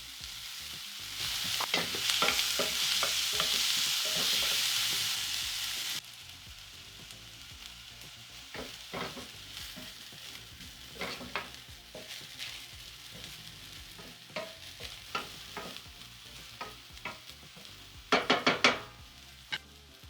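Onions fry in vegetable oil for a prawn masala, a loud hissing sizzle at first that drops to a quieter crackle, broken by scraping stirs and clinks of a utensil against the pan.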